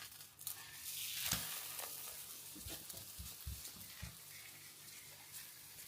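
Pancake batter sizzling in a very hot pan, a steady broadband hiss with a few sharper crackles and pops scattered through it, close and fairly quiet, with no talking.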